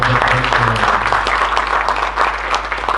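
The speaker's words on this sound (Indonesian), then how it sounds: "Boleh tepuk tangan dulu dong." Audience applause at an Indonesian talk show event, a dense steady patter of clapping from a crowd with a low hum and faint tonal sounds underneath, continuing evenly throughout.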